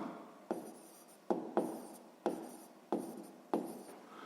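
Handwriting strokes while working a sixth-grade math exercise come through as six short, scratchy pen or pencil bursts spaced irregularly. They are close and distinct against a quiet background, with no talking.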